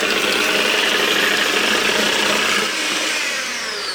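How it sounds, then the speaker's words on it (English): An electric hand mixer beats cream, a steady high whirring buzz close up with a slight change in pitch near the end as the beaters work. "using an electric hand mixer, we're just going to beat the cream until we get nice soft peaks"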